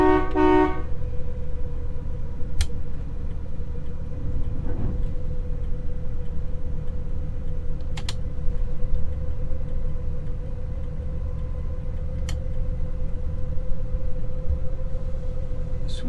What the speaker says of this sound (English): It's a typical whine of the hydromatic.